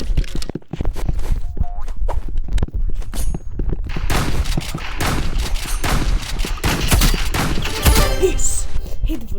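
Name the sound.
gunfire in a shooting video game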